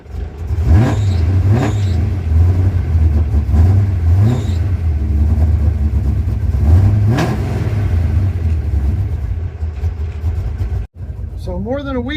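A car with fuel delivery problems cranks, catches and revs repeatedly, the loud close engine rising and falling in several rough bursts before a brief cut-out and restart.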